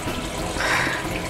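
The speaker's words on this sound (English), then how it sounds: "get some cold water in the sink" Cold tap water running into a kitchen sink, a steady close rushing stream with a brief brighter splash near the middle.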